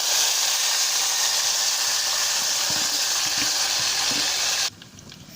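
Onions frying in hot oil for village fish curry, a loud continuous sizzle and hiss with light stirring clatters, cutting off abruptly near the end.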